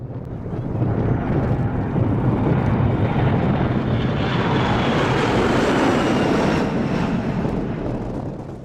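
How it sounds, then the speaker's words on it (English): A C-17 military transport jet roars through a max-power takeoff at Manchester Airport, its engines a loud, steady, sustained rumble with wind buffeting that swells in and holds for several seconds without speech. "Hold on tight, pilot, because you're driving a C-17 and performing a max engine takeoff."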